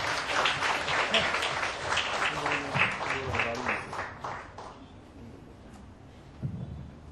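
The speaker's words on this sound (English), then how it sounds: "I think we all should clap for it" A crowd claps steadily for several seconds, the applause fading out toward the end, followed by a brief quiet murmur.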